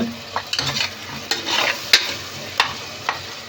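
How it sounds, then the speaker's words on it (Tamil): Spoon stirring tomatoes and onions frying in oil in a pan, soft sizzling under a few scraping strokes and several sharp clicks of the utensil against the pan, close. "தக்காளி வெங்காயம் அடி பிடிக்காமல் நல்லா கிண்டி விட்டுக்கணும்"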